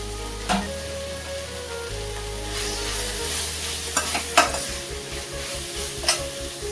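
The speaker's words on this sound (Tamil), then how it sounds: "முட்டைக்கோஸை போட்டுட்டு ஒரு 2 நிமிஷம் வதக்க விட்டுட்டு" Cabbage and mixed vegetables sizzle and fry in a pan for vegetable fried rice, with a constant hiss broken by several sharp scrapes and clanks of a spatula stirring, close and fairly loud.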